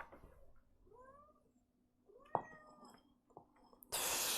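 A house cat meows a few times, drawn out and wavering, fairly close in a quiet room, followed by a short knock and a burst of splashing as water spills onto the floor.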